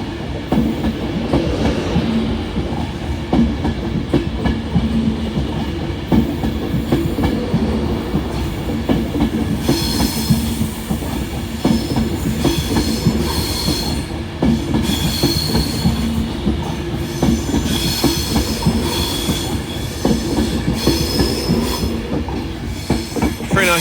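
A Northern train pulls out of Carlisle station on the West Coast Main Line, wheels clattering and squealing over the rails in a steady run of clicks and screeches, heard alone without talk.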